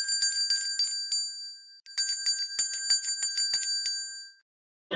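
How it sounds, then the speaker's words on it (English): A bell dings repeatedly to announce an NFL Draft pick, first a quick run of bright metallic strikes, a short pause, then a second rapid burst of rings, near and clear with no talk. "Might got to ding the bell"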